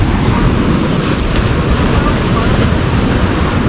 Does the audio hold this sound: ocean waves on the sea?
yes